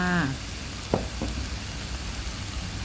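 Pork and fresh bamboo shoot red curry with coconut milk simmers and sizzles steadily in the pot, with a faint scrape of stirring partway through and no talk.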